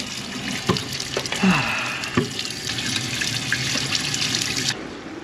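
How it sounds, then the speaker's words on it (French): Water gushes steadily from an outdoor tap during a hot-weather gravel ultra-cycling event in the Vercors, a continuous splashing stream with a few louder spatters, ending abruptly. "Allez, un petit robinet d'eau à 10."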